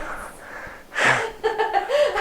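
During a chiropractic adjustment, a person lets out a sharp, breathy exhale that turns into a short voiced gasp or groan. It is close and fairly loud, preceded by soft breathing.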